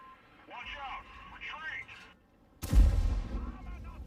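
A single loud, booming tank cannon shot in World of Tanks lands about midway, near and heavy with a rumbling tail, after a stretch of talking and radio-like voices.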